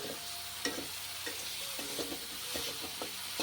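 Spice paste of ground green chilli and cumin fries with soybean chunks in a pan, a steady close sizzle broken by several brief scraping stirs.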